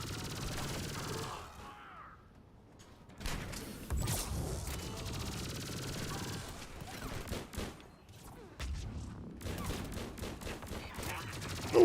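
Rapid gunfire in a Mass Effect 3 multiplayer match comes in repeated loud bursts separated by brief lulls, mixed with sci-fi weapon effects and impacts, with some faint voice at times.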